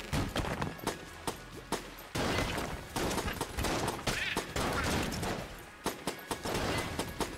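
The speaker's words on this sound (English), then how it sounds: "Shouldn't reload when I'm shooting like this, you know?" Guns blaze in the video game Enter the Gungeon: rapid, sharp shots crack out in uneven bursts and quick volleys, some clustered tightly, others spaced apart, fairly close and punchy, with no talk.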